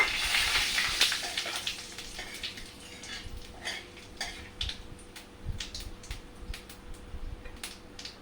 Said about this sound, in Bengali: এবার আমি তেজপাতা জিরে ফোটন দিয়ে দিচ্ছি